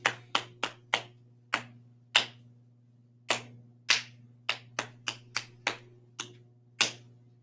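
Hands clap a rhythm along with a children's song, about twenty sharp, close claps in uneven groupings over a low steady hum, with no voice singing along.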